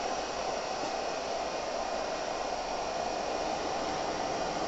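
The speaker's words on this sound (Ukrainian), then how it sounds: "відповідно вентилятори постійно працюють" Cooling fans of a Baseus 500W 12/220V inverter (BS-CI50-02) running under a load of about 524 W, producing a steady, loud, even whoosh of airflow with no voices.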